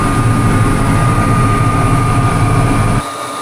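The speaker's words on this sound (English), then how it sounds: "pretty much wide open running this machine back here." A grain vac emptying a grain bin runs wide open, a loud, steady mechanical roar with a constant whine, close by and unbroken until it cuts out sharply near the end.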